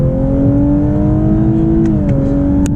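Lexus LC 500h hybrid accelerating hard on an open highway, its steady engine drone climbing in pitch, dipping briefly at an upshift near the end, then pulling again, heard from inside the cabin with road noise beneath.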